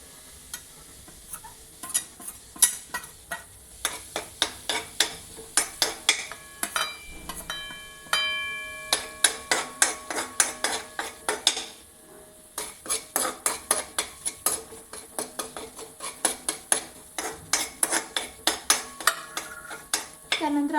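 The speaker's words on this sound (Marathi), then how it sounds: "त्यानंतर आपण याच्यामध्ये तिखट वगैरे सगळं मिक्स करून घेऊ।" A metal spoon stirs corn chaat with chili spices in a pan, rapid rhythmic scraping and clinking against the metal, close and steady over a faint sizzle.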